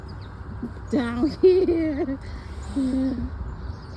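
Birds call in short tonal bursts of a few notes each, fairly clear against quiet background noise in a neighborhood of large estates with manicured lawns, with a person speaking briefly.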